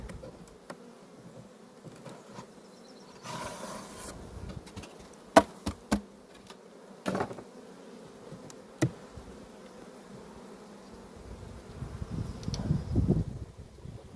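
Carniolan honey bees buzz around hive frames at an apiary during colony expansion, a soft continuous drone with louder bees passing near, punctuated by occasional knocks and clicks of frames being handled.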